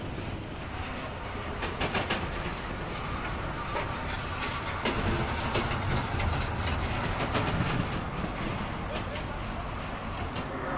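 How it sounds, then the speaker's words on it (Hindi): A monorail ride circles an amusement park at Fun Town water park in Bahadurgarh, giving a steady rumbling run with light clicking and rattling throughout, and a busy background of crowd noise. "मोनोरेल है ये, और इसमें एक तरह से बंद हो जाएंगे और फिर ये पूरे अम्यूजमेंट पार्क का चक्कर लगा सकते हैं"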